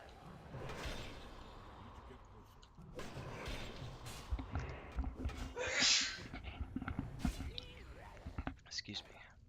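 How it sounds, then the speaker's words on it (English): A gamer sneezes away from a headset microphone during a live stream, a muffled sharp burst amid quiet whispering, breathing and shuffling noises close by. "Hopefully that doesn't sound up really loud when I just yank the headset off and try to sneeze away from the mic."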